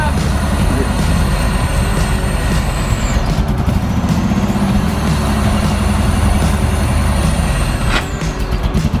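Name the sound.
Ferrari Koenig kit car engine running, going into gear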